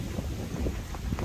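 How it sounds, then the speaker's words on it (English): Gusty wind buffeting the microphone outdoors at a lakeside campground in Alabama, a low rumbling roar that swells and dips over a brief moment, with no speech. "Wow, it is windy today"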